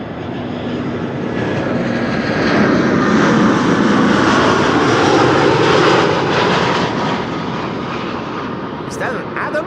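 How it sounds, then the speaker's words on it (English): An Edelweiss airliner arriving from Zurich roars steadily and loudly past at Amsterdam Schiphol, swelling and then easing off, with faint voices beneath the engine noise. "Edelweiss, arriving from Zurich"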